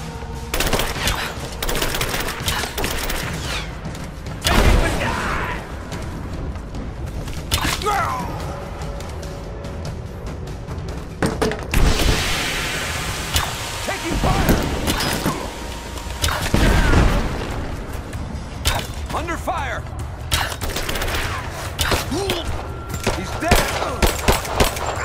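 Gunfight in Rise of the Tomb Raider, with repeated bursts of rapid gunfire, heavy booms and crashing impacts scattered across the stretch, loud and chaotic with shouted voices in among the shots.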